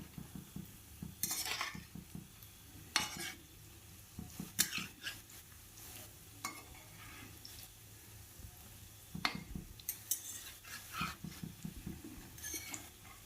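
Masoor dal pakora batter fries in hot oil while a utensil stirs and clinks against the pan in repeated bursts, with a low steady background and no talking.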